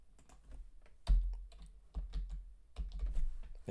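Keys on a computer keyboard are tapped in quick irregular bursts, close and crisp, with a few heavier thumps on larger keys.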